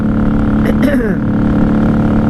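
A 1994 Honda Magna VF750C motorcycle on a highway at night gives a loud, steady engine drone and wind roar throughout, with a brief rising and falling whine near the middle.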